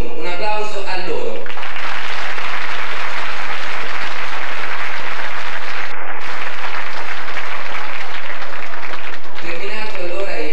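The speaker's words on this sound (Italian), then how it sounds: "Un applauso a loro." Loud, sustained applause from a theatre audience for schoolchildren at a children's poetry contest, with music at the start and end and a brief break in the middle.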